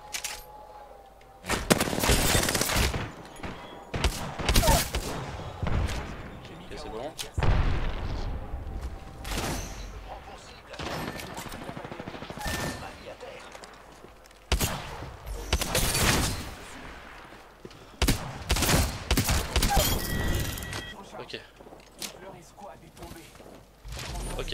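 Gunfire in Apex Legends, with loud bursts of rapid automatic shots and heavy blasts repeating throughout over constant game noise, while a player talks.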